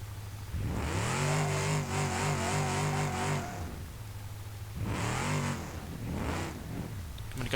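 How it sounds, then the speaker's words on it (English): A Gavril H-Series street-tuned car in BeamNG.drive, with nearly 400 horsepower and its exhaust removed, revs hard in a long loud rising-and-falling burst, then two shorter throttle blips follow. "the exhausts off of this make the car sound like a race car"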